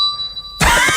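A single bright bell ding on a radio show rings out clearly and sustains for about half a second, then is cut off abruptly by a loud burst of broadband noise.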